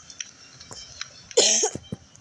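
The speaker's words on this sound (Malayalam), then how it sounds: "ചുമ" A single sharp cough bursts out close to the microphone, with a few faint clicks and small mouth noises before and after in an otherwise quiet room.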